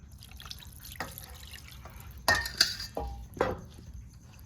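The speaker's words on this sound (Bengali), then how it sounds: "মাখানো হয়ে গেছে এখন দিয়ে দেবো জল" Water is poured into a wok in a home kitchen, heard as a few short splashing bursts with light clinks against a quiet background.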